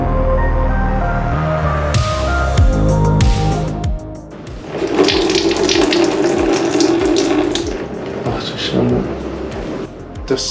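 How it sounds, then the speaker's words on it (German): Water pouring and splashing out of a damaged AJP PR7 motorcycle engine while the engine is turned over in gear, a steady gushing stream close by with clanks and mechanical clicks and someone talking. "Das war auf jeden Fall gerade eine ganze Menge Wasser."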